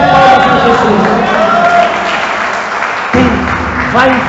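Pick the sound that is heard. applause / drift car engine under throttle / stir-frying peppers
applause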